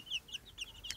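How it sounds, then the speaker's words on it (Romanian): Young chicks peep and cluck nearby in a quick series of short, bright chirps, fairly faint and alone. "Și acum mă mai relaxez și eu puțin cu puișorii."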